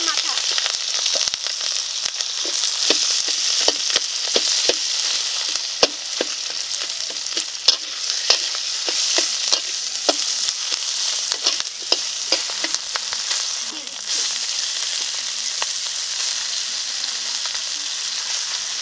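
A fish head frying in hot mustard oil with whole cumin and slit green chillies, a loud continuous sizzle with crackling pops spread throughout, close and steady.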